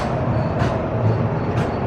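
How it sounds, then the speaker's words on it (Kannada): Continuous rumble of a freight train at Dharmavaram junction, heard steadily at close range with a broad, even roar and faint higher hiss throughout, no voices. "ಆಮೇಲೆ ಇಲ್ಲೊಂದು ಫ್ರೈಟ್ ಟ್ರೈನ್ ಐತಿ."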